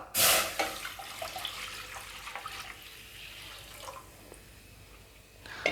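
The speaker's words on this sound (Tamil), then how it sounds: "மேக்கரோனி வேகிற அளவுக்கு நம்ம தண்ணி சேர்த்துப்போம்." Water pours and splashes into a cooking pot for boiling macaroni, with a burst at the start, then a softer running trickle with small clinks, ending with another splash.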